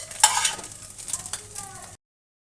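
Pumpkin flower fritters being broken up and stirred in a frying pan, with a faint sizzle and a few scraping utensil strokes. Close by, with no talk, ending after about two seconds.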